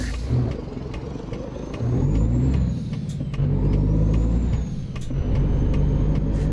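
A truck in American Truck Simulator idles with the Coyote Air Brake Sound mod, a deep engine rumble broken by sharp short hisses of released air, loud and close, without talk.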